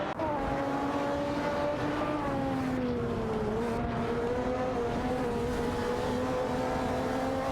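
A Ford GT and a McLaren F1 GT race in a video game, their engines a loud, continuous high-revving drone that shifts pitch slightly as they battle side by side.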